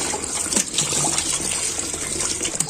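Running water splashes and gushes steadily over goat tripe being washed clean by hand in a kitchen, a close, continuous pour with no talk.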